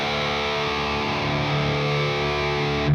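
Heavily distorted electric guitar through an Audiority Heavy Pedal set to its Filth mode, dialed toward a Swedish death metal tone; a thick, buzzing chord rings steadily for about three seconds, then cuts off abruptly.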